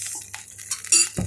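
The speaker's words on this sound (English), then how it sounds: "Now let us stir it nicely." A spoon stirs mutton Rogan Josh, a Kashmiri curry, in a clay pot, making short, close scraping and clinking sounds with a soft wet stir.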